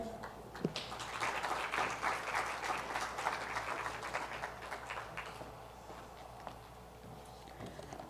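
A panel audience at a cost-engineering event applauds, a soft, fairly distant patter of clapping that holds steady for a few seconds and then thins toward quiet.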